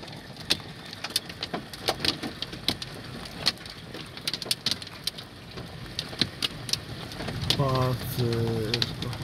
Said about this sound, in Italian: Adesso la grandine si sta assottigliando.